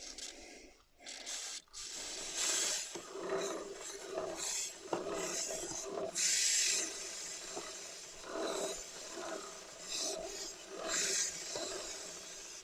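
Short hissing bursts of aerosol lube sprayed onto a motorcycle chain, repeated several times, amid clicking and rattling of the chain being turned.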